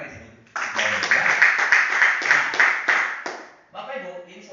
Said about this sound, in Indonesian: Tepuk tangan dari situ.